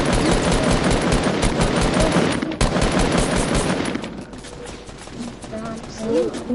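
Gunfire in the video game Fortnite, loud rapid automatic bursts filling the first four seconds, then fading to quieter scattered sounds, with a voice speaking over part of it.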